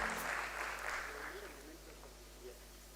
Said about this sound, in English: Can we please have a little louder round of applause, everyone?